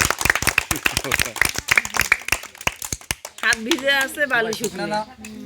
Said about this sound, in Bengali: তালি মারেন তো পোলা পান